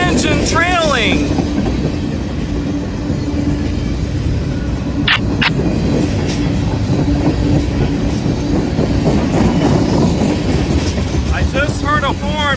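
Freight train led by a TAG heritage locomotive with a second engine trailing rumbles steadily past in Whitesburg, Tennessee, a continuous loud roar with clattering wheels, brief squeals and a faint horn, while people talk nearby.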